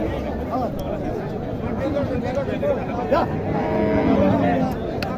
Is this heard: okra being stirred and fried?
no